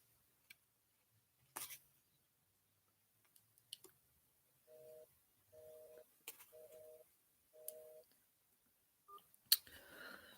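Four evenly spaced touch-tone beeps from a phone being dialed, each short dual-pitch tone separated by brief gaps, quiet and clear, with a few scattered clicks before and a burst of handling noise after.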